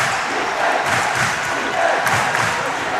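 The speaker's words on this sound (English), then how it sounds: "The ACSI crowd are like stomping on the bleachers" Basketball crowd at a national schools boys' final, a steady dense roar of spectators with rumbling low thuds suggesting feet stomping on bleachers, loud and continuous throughout.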